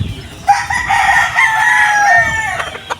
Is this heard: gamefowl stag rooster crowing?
yes